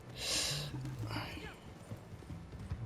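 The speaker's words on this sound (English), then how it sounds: "Yeah, that's my new horse." Video game horse hooves clip-clop at a steady walking pace, with a brief whooshing rush early on, fairly quiet and evenly rhythmic throughout.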